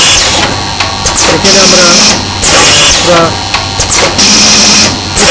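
A paper cone making machine with servo drives and inverters runs empty without materials, a loud rhythmic mechanical clatter cycling steadily, with someone speaking over it.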